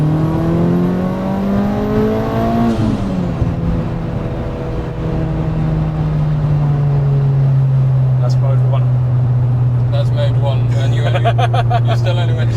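A tuned Mitsubishi Evo 5 engine rises through the gears, a loud sustained drone climbing in pitch then dropping at a shift and holding steady around 6,000 RPM, with voices talking inside the car.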